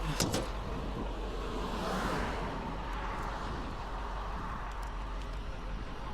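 A car passes by on a roadside, a broad whoosh that swells to a peak and fades over a few seconds against steady traffic rumble, with no talk.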